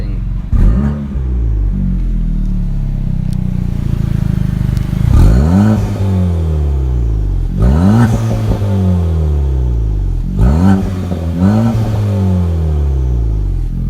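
Modified Chevrolet Cruze engine revved in a sound test: several sharp throttle blips rise and fall in quick succession, loud and close, with idle rumble between the revs and no talking.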